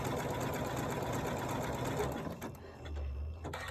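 A Janome Continental M17 quilting, sewing and embroidery machine runs a zigzag stitch at speed, its loud, even mechanical whir close by, then slowing and stopping near the end.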